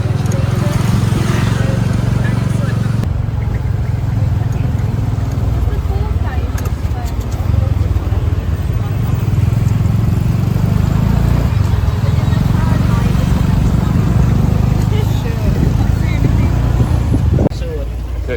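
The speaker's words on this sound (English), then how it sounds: "Tuk-tuk's here, so we're going to go." A tuk-tuk engine idles and putters in a Cambodian street, a steady low rumble close by with traffic noise, while people talk over it.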